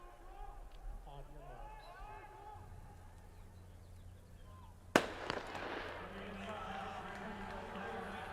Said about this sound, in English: by the time the gun went off